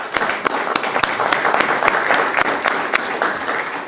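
An audience at a school district governing board meeting gives a round of applause: steady, moderately loud clapping from a room of people, with sharper individual claps standing out throughout.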